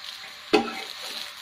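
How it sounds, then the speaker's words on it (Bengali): Pitha frying on a tawa in a little oil mixed with leftover meat fat, giving a steady soft sizzle with one sharp hiss or clatter near the start, close and fairly quiet. "আমি অল্প সামান্য তেল দিয়েছি তাওয়ায়, আর মাংসের যে তেলটা ছিল সেটা দিয়েই পিঠা ভাজা হচ্ছে।"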